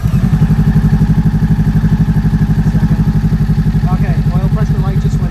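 A 2023 Honda Rebel 500 motorcycle engine idles loud and close, a steady low pulsing throb that never changes pace, with faint higher chatter creeping in near the end.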